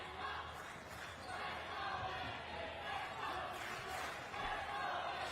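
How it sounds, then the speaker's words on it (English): Basketball fans of the NS Matrix Deers cheer in a steady, loud arena roar late in the fourth quarter, rising and swelling in waves without a break. "Matrix fans now cheering behind their team"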